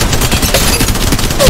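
Gunfire in the mobile battle royale game Apex Legends Mobile, a dense, loud burst of rapid shots that continues steadily through the whole moment with no pause.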